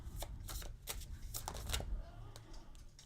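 Tarot cards are shuffled and drawn with quick papery riffles and slaps in an uneven rhythm. They are close and fairly loud, with no talk over them.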